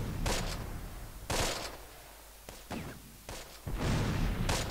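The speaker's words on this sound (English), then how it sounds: "maybe 60mm mortar will help a little." In the Close Combat video game, 60mm mortar fire lands in several separate heavy bursts, each a loud, broad boom followed by a short gap of quieter rumble.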